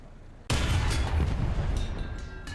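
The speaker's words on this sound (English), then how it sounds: "we'll test out the Heat FS shell against the IT-1" A tank fires a HEAT-FS shell in War Thunder: one sudden, heavy boom after a quiet moment, followed by a deep rumbling tail and then lighter clatter and mechanical noise.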